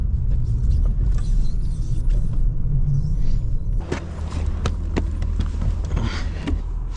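A BMW M3 drives on ice, engine rumbling low and steady, then easing off as sharp ticks and crackles of tyres and ice come through over a quieter idle.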